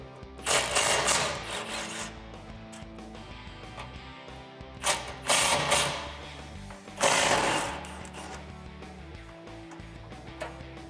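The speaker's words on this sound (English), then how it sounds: "I'm going to use a 10 millimeter swivel socket to get these two bolts off." A 10 mm swivel socket on a ratchet works exhaust hanger bolts off a 2011-2014 Ford F-150 3.5L EcoBoost, giving quick clicking ratchet bursts in three clusters over a low steady background, with no talking.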